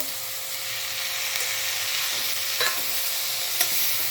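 Chopped onion and tomato frying in a pan over low gas for a homemade pizza topping, a constant soft sizzle close by with a few faint scrapes of stirring.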